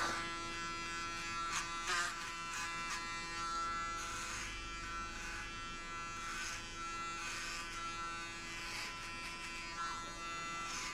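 Electric clippers shave hair for a buzzcut, a steady close motor buzz with short bursts of denser crackle as the blades pass through hair, quiet and continuous.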